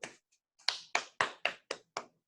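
Good old-fashioned hand claps stand in for a clap track: seven sharp, close claps in an uneven rhythm, with a short pause after the first two, and no talk.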